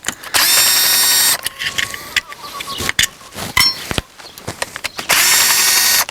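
Power tool, likely an impact driver, spinning out clutch cover bolts on a KTM motorcycle: two loud whirring bursts at start and end with clicks, rattles and handling noises between, close up.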